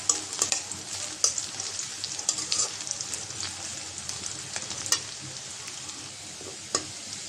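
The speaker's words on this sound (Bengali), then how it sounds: "পেঁয়াজ মরিচ ভাজা হয়ে গেছে" Onion and ripe Bombay chillies fry in a pan for spicy kalmi greens, making a steady close sizzle with scattered sharp stirring clicks and scrapes.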